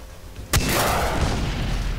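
A sudden loud RPG blast in Far Cry 3, a sharp boom followed by a sustained roaring rumble that stays loud to the end.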